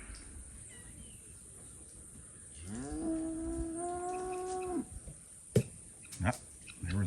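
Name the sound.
cows mooing in a farm pasture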